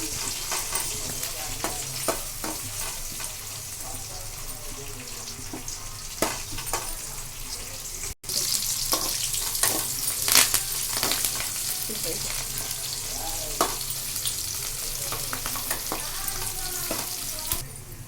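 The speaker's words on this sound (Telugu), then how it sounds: "పచ్చిమిర్చి, ఉల్లిపాయ కొంచెం దూరగా వేయించాలి." Green chillies, curry leaves and onions frying in a pan, a steady loud sizzle throughout with occasional stirring scrapes and brief crackles, no voices.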